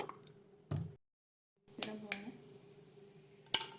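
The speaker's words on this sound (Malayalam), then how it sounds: "കടുകും ഉലുവയും പൊട്ടി വരുമ്പോഴത്തേക്ക്" Mustard and fenugreek seeds pop in hot oil in a pan for a Kerala fish curry, giving a few sharp, scattered crackles over a faint low sizzle, with no talking.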